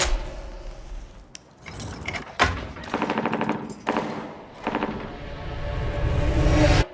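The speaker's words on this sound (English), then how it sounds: "Do you hear that? Were those gunshots?" Several rapid bursts of machine-gun fire ring out in a film scene, separated by short pauses and thuds, loud and sharp with no speech.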